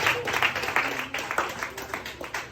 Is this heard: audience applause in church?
yes